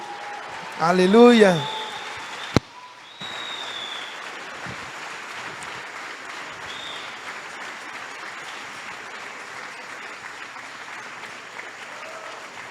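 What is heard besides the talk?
congregation applause in church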